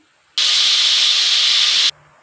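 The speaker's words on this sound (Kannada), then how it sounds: "ಈಗ ಲಿಡ್ನ ಕ್ಲೋಸ್ ಮಾಡಿ 3ರಿಂದ 4 ವಿಸಿಲ್ ತೊಗೊತೀನಿ" A pressure cooker on the stove lets out its whistle while cooking palak dal, one loud, steady hiss of escaping steam lasting about a second and a half, close and alone, with a quiet background on either side.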